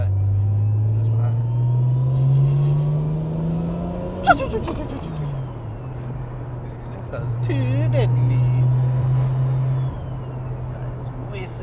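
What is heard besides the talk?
whistling turbo of Nissan Skyline R33 GTR car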